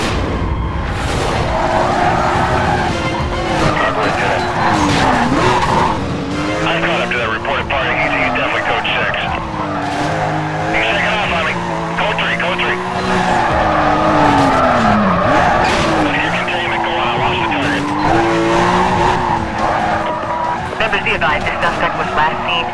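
A silver Porsche races through a police chase in Need for Speed Carbon, its loud engine roaring and shifting pitch while tires squeal and skid, under police radio chatter throughout.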